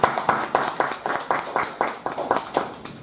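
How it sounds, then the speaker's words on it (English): A Toastmasters meeting audience claps for a speaker in a rhythmic, unison pattern, evenly spaced strong claps close and loud, continuing steadily for the full few seconds. "Can we again hear a big round of applause for her?"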